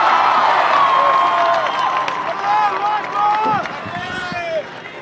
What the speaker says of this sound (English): Everybody give a big round of applause for Cori Bush and Rashida Tlaib